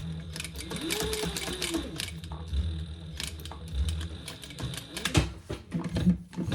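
A sewing machine back-stitching over earlier seams on a diaper backpack, bursts of rapid needle chatter with short pauses, close up, and a person speaking briefly in between.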